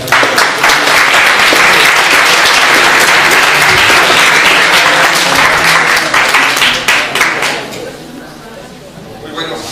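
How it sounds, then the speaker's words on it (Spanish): A conference audience at a university in Morelia gives a speaker a strong welcoming round of applause, loud sustained clapping that thins and fades near the end. "Recibámoslo con un fuerte aplauso."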